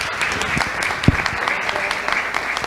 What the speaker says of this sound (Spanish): un fuerte aplauso al señor procurador, por favor